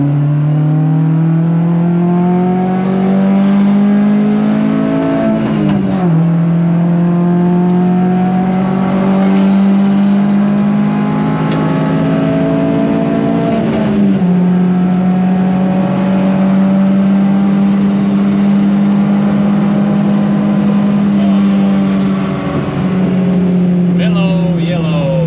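The engine of a rebuilt BMW 02 track car drones loud and close, holding steady revs with a few dips and rises as it shifts and accelerates, voices speaking over it now and then.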